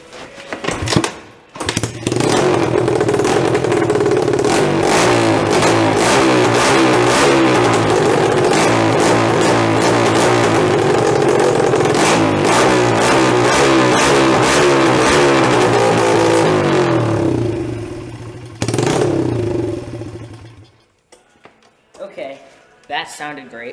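Pit bike fitted with a CRF450R muffler revs loudly and continuously for about eighteen seconds, rising and falling in pitch, then cuts off, leaving quiet handling noises.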